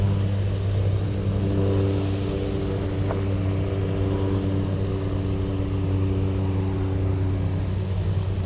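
An SF Airlines cargo aircraft at Anchorage airport gives a loud, steady engine drone with a constant low hum that holds unchanged for over eight seconds, with no talk.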